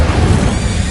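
Incendio fire spell cast in Hogwarts Legacy, a short, loud, dense whooshing burst of flame that stays close and full for under a second.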